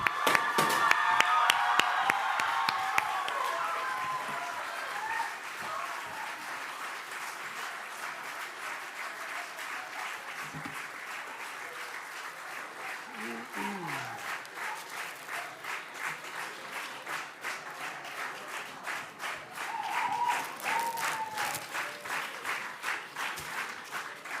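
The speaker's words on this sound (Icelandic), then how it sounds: "Gott klapp." Sustained applause from a large crowd for election candidates at a party gathering, with scattered cheers at first, settling into steady rhythmic clapping that swells again near the end.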